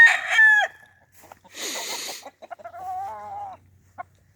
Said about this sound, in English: This rooster's still here.